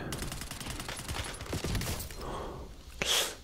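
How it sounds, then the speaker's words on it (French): Rapid gunfire rattles in the video game Call of Duty: Warzone, with a dense string of quick shots over the first two seconds that then fades, followed by a soft breathy sound near the end. "Je vois quelqu'un. Je tire tout à côté."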